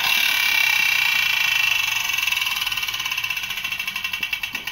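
A vintage tin friction rocket racer toy gives a high whirring, buzzing noise that starts steady and breaks into rapid pulses as it winds down, fading slightly toward the end.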